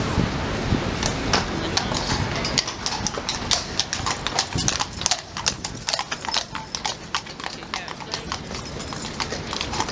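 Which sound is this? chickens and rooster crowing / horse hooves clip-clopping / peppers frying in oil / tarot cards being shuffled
horse hooves clip-clopping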